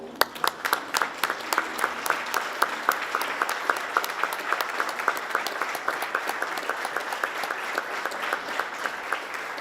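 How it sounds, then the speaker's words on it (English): A large audience at a Hall of Fame ceremony gives a standing ovation, a dense, steady wash of clapping with sharp claps standing out near the front, lasting throughout. "I ask everyone else to please stand for a standing ovation for the Hall"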